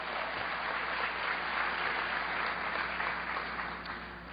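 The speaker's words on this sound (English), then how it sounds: "So give Congressman Watt a big round of applause." Audience applause for a congressman at a political event, a steady dense wash of clapping at moderate distance that holds throughout and eases slightly at the end.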